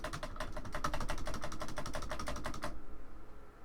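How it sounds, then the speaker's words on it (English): Space bar of an old computer keyboard pressed repeatedly, about twenty quick, evenly spaced clacks for under three seconds, then quiet room tone. "So this is the old keyboard, if I just hit the space bar a few times."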